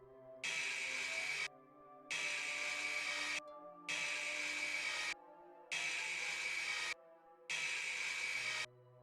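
A sword being ground on a grinding wheel in the game Fantasy Blacksmith, five even bursts of harsh, steady, high-pitched grinding, each about a second long and separated by short silent pauses, with no talking.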